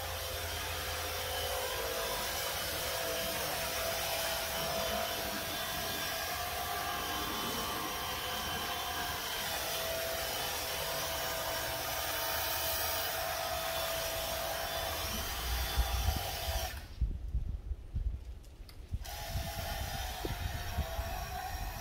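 A DEWALT DCPW550 cordless power cleaner sprays steadily through a pre-rinse, giving a continuous broadband hiss and motor whine that runs unbroken, close and fairly loud, with a brief dip near the end.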